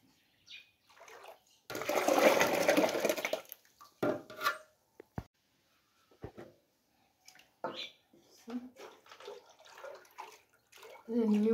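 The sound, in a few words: washing hands with water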